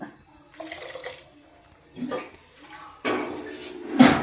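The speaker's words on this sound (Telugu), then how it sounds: "10 గ్లాసులు వేసుకున్నాను మొత్తం నీళ్ళు." Water being poured into a semolina and tomato batter for sago-and-tomato vadiyalu, coming in several short splashing bursts close by, with no talking.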